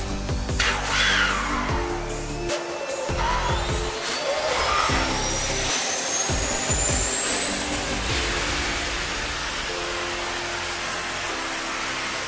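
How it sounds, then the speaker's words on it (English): An F-22 Raptor's auxiliary power unit spins up on the flight line, a steady loud whine rising in pitch over several seconds before settling into a constant high roar, with thumping mechanical bursts underneath. "Once the pilot is in the seat, he's going to fire off the APU."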